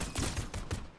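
Gunfire in the video game Fortnite: a quick burst of several shots in rapid succession, fairly faint and muffled, lasting about a second.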